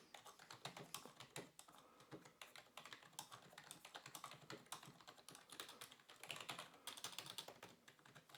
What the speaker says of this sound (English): let's do a mock typing test